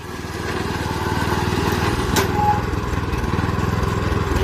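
Tracked dump truck with a Mitsubishi 7 hp four-stroke petrol engine reversing, its small engine chugging steadily and close by with a rapid even putter, one sharp clack midway.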